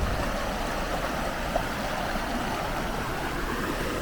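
Fast, swollen river in Norway after a summer storm, a steady broadband rush of water roaring continuously and fairly loud throughout, with no voices over it.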